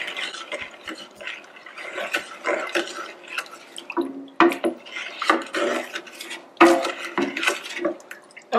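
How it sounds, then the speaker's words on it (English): A spoon stirs salt brine with peppercorns and bay leaves in a pot, making irregular scraping and swishing strokes with small clinks, close up and without talk. "And now I'm just going to stir this."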